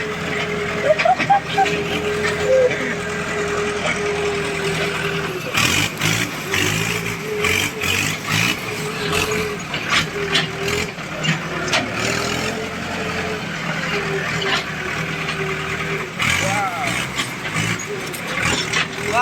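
A tractor engine running at a work site, a steady mid-pitched rumble with some revving, heard close alongside a dog barking and occasional background voices.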